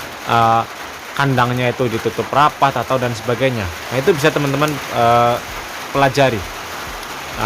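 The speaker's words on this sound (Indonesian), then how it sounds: "keganggu suara hujan ya, baru turun ini suara hujannya." Steady rain beginning to fall outside near a rabbit hutch, a soft continuous hiss running underneath someone speaking throughout.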